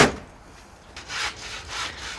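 A handsaw cutting through wood during a cabin rebuild, two soft rasping strokes close by after a brief knock at the start, fairly quiet.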